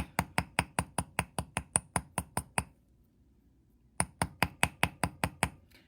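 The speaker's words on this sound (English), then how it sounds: "So you just want to lay that on your block and give it a little tap." Small wire-wrapped earring component tapped against a block to work harden it: a quick, even run of about a dozen crisp metallic taps, a short silent pause, then another steady burst of taps, close and clear.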